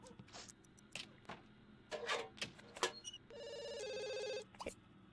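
A telephone in The Sims 2 rings with a steady electronic trill lasting over a second, following a string of sharp clicks and household game noises.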